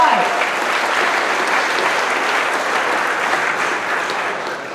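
At a monthly company celebration for a trucking firm, the audience's applause runs as a steady, unbroken wash of clapping throughout, fading slightly toward the end.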